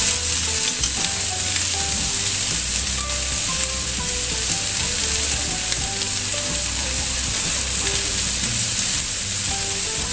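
Green beans being sautéed in a pan give a steady, loud sizzle throughout, mixed with faint stirring scrapes.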